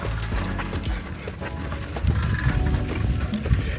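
A camel plods along on a bumpy ride near the Egyptian pyramids, with a steady run of soft footfalls and creaking saddle gear heard close up, plus some rustling and low background noise.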